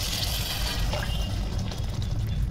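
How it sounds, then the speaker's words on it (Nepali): Water poured into potato curry in a pan makes a soft, continuous splashing and gurgle, close by, over a low background rumble. "हल्का पानी हाल्ने।"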